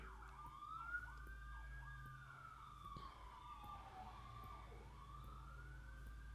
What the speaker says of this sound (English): That's a weird-ass siren.